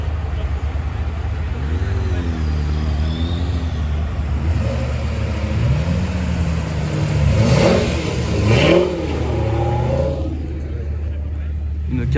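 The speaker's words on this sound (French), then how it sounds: "Une Corvette C5." Chevrolet Corvette C5 engine at a car meet, a steady loud engine drone that rises into a couple of revving swells midway, with someone talking over it.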